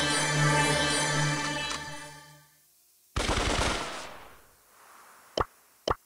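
Gunfire from a royal agent Colt skin in a video game: a sharp, loud burst near the midpoint that trails off, followed by two brief, punchy single shots near the end, with a sustained musical tone fading out before them.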